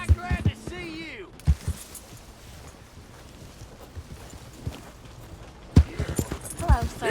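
Horse hooves clip-clop in Red Dead Redemption 2, a few sharp close hoof strikes at the start and again near the end with quieter footfalls between, while a voice speaks over the opening and closing moments.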